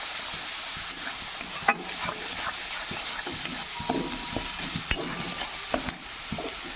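Turmeric, salt and spices fry with bhola fish in a pan for a mustard jhal, a constant sizzle broken by repeated scraping stir strokes and occasional clinks of the spoon.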